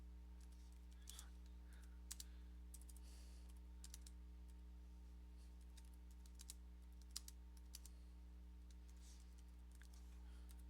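Light, uneven clatter of fingers typing Java code on a computer keyboard, quiet and close, with a steady low electrical hum underneath and no talking.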